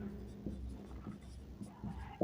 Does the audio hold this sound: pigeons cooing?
no